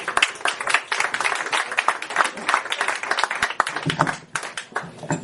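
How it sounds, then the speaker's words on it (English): Audience applause at a comedy night at the Kitley Inn, a lively burst of clapping and cheering from a small crowd that rises and falls over five seconds, with scattered voices mixed in. "Ladies and gentlemen, make some noise for Corrina Morris."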